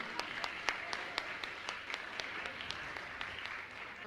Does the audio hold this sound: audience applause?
yes